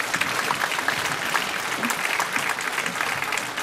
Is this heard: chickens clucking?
no